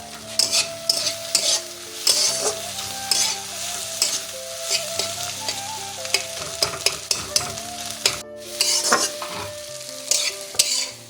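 Bhujia sizzles steadily in a hot pan while a utensil scrapes and stirs it repeatedly, loud and close, with no talking.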